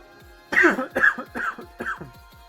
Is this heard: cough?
yes